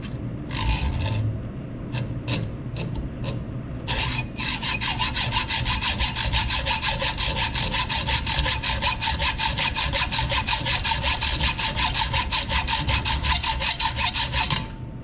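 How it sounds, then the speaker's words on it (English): Hacksaw cutting a 1/8 inch metal rod clamped tight in a vise: a few short trial strokes, then steady, rapid back-and-forth rasping strokes that continue evenly and close up with no talk. "So get it in your vise nice and tight if you're doing this with a hacksaw."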